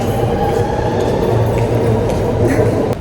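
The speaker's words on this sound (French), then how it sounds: "On est directement à la station de métro" A metro train rumbling through a subway station, loud and steady with a low droning hum and faint wheel squeal, continuous throughout before easing slightly at the end.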